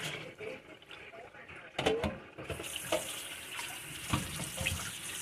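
Tap water runs and splashes into a metal pot, with clinks and bumps, while a person talks quietly in the background.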